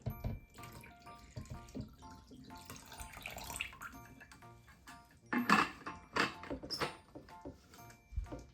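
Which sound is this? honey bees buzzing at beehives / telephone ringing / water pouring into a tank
water pouring into a tank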